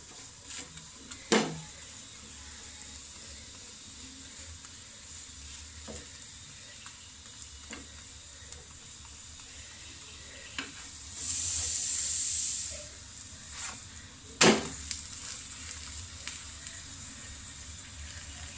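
An aloo paratha fries in ghee on a pan, giving a steady low sizzle with occasional sharp clicks and scrapes and a brief louder hiss of steam midway, close and with no talking.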